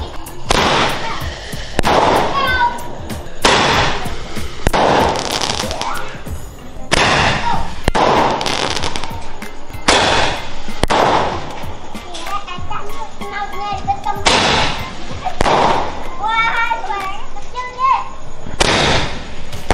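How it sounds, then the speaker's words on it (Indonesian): A Roman candle firework lets off a steady series of sharp bursts, roughly every second or two, while children chatter and shout nearby. "kita bakar yang ini, guys, yaitu Roman Candle"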